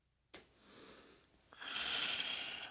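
Slow breaths during a yoga downward dog pose, a faint sniff-like inhale followed by a longer airy exhale, close and quiet with no talking.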